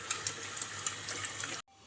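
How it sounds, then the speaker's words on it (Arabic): Hot water running from a tap over cow trotters in a sink, a steady close splashing stream with small clinks, cutting off abruptly near the end. "هنا بقى بشطف الكوارع بقى بميه سخنه"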